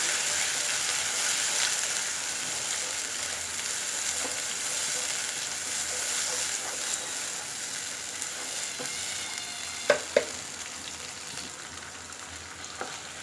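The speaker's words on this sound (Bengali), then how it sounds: "এখন এটাকে ভালোভাবে একটু ভেজে নেব।" Broiler chicken fries with salt in a pan, giving a constant soft hiss and sizzle, with a couple of sharp clicks from stirring near the end and no talking.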